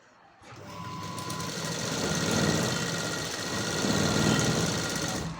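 A sewing machine stitching a blouse sleeve starts up after a brief pause and runs in a steady, fast mechanical whir close by, holding a continuous rhythm.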